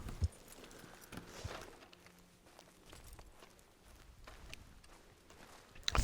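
Horse hooves clip-clopping at a walk in the video game Red Dead Online, a soft, steady hoofbeat rhythm under a dense woodland ambience, with a louder thump near the end.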